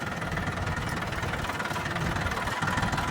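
A tractor engine runs steadily throughout on a rough hilly road, a loud, rough, continuous rumble with a knocking texture and no pauses.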